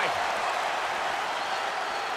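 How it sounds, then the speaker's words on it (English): Raucous arena crowd at a tag-team wrestling match, a dense, loud, steady wash of cheering and roaring with no break. "What a raucous crowd here tonight."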